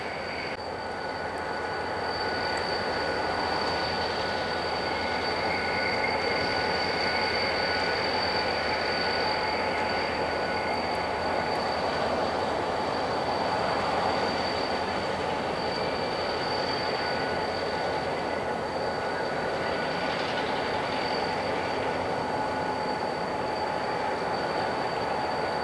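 NYS&W local freight led by CSX locomotive 2514 rolls steadily through Utica near Schuyler Street on a freezing morning, a continuous rumble of rail cars with faint wheel squeal and a high ringing tone, fairly loud and unbroken throughout.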